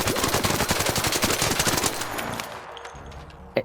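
The cheap Stitcher gun in ARC Raiders, fitted with four attachments and a 25-round magazine, fires a rapid automatic burst that runs for about two seconds, then stops, leaving fading echoes and one last sharp shot near the end.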